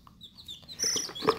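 High, thin cheeping of chicks being marked for identification, several quick chirps growing louder and busier toward the end, with light rustling beneath.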